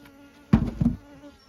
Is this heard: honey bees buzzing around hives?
yes